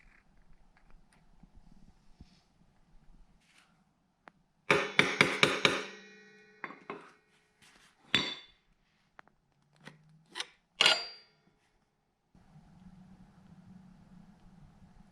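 Straightening the tab of a nut lock washer on a DRZ 400S: a quick burst of sharp metallic taps, then scattered single knocks and scrapes, close and fairly loud, with quiet pauses between.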